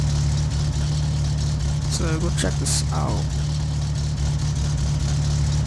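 A car engine idling in My Summer Car, a steady low droning hum with a constant rumble across the whole stretch, while someone talks over it.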